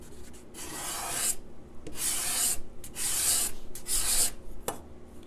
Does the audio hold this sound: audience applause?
no